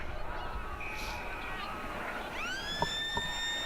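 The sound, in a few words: football match end siren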